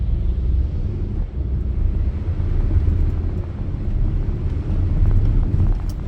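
A car with a manual transmission creeps along slowly in second gear at about 2,000 RPM, its steady low engine rumble droning throughout with some wind noise and no talk.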